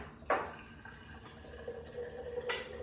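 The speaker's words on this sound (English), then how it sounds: "So I've added some water to the jar to get out all of that." Water splashes briefly into a jar holding leftover veggie juice, then trickles and drips softly in a quiet kitchen, with a second short splash near the end.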